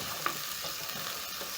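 Onions and garlic fry in a pot for a mbaazi pigeon pea curry, a soft steady sizzle with one faint tap early on, quiet and alone.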